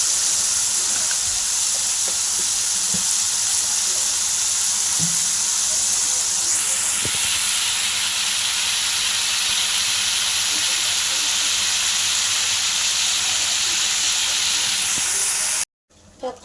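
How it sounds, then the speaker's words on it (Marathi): Cluster beans (gavar) sizzle steadily with salt in a hot pan, a continuous close frying hiss with faint stirring scrapes that runs unbroken before cutting off abruptly near the end. "मीठ टाकून चांगली परतून घेतली."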